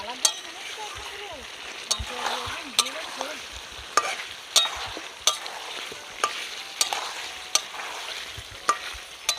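Chicken kosha with fried potatoes and a whole garlic bulb is stir-fried in a pan: a steady sizzle and frying hiss runs throughout, with regular sharp clicks of a spatula scraping the pan.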